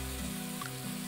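Onions sizzle steadily in a hot pan, a continuous close frying hiss with a low hum underneath and no voices.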